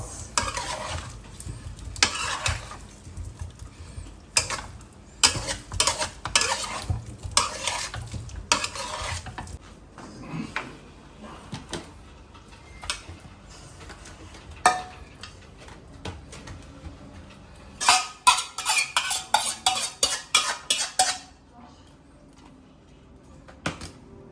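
Potatoes and corn are stirred in a pot for a seafood boil, producing repeated scraping, clattering bursts of utensil against cookware over a faint sizzle, with quieter pauses between rounds.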